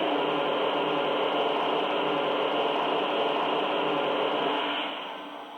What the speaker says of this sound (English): The steam blowdown sound.